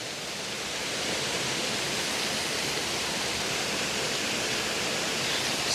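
A forest waterfall rushes as a steady, dense roar, loud and unbroken from start to finish, with no voices over it.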